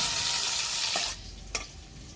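Eggs stirred in hot frying oil give a loud, close sizzle for about a second. It then drops to a quieter fry with a single clink of the spoon.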